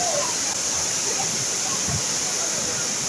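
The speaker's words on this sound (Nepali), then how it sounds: "लामो झरना रहेछ" A long waterfall at Bar Changay Falls in Sikkim roars in a steady, dense rush of falling water heard from a distance, unbroken throughout.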